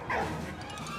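A single brief dog bark sounds near the start, set in the Great War game Valiant Hearts, then fades into a continuous musical game background.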